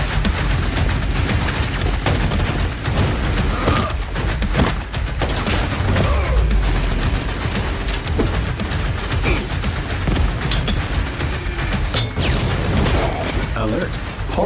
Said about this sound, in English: This guy's already pulled out a minigun.